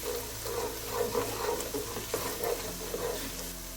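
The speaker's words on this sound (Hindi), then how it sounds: "अब जाएगा 1 चम्मच अदरक लहसुन का पेस्ट भून लेंगे।" Ginger garlic paste frying with onions in a hot pan, a close, steady sizzle broken by repeated rhythmic scraping strokes of a stirring spoon.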